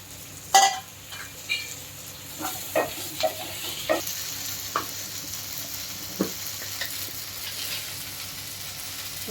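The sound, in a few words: okra being fried and stirred in tempering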